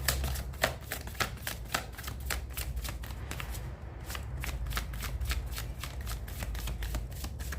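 A deck of tarot cards is shuffled close up in a rapid run of crisp riffling flutters that repeat steadily with a brief pause midway, without speech.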